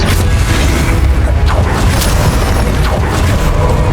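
The Incendio fire spell cast in Hogwarts Legacy, a series of loud fiery whooshing blasts and booming bursts, dense and close, sitting over constant combat noise.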